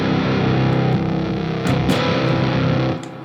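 An electric guitar played through an extreme distortion pedal set to mode A gives a dense, heavily saturated, fuzzy roar that sustains loudly for about three seconds, then cuts off abruptly.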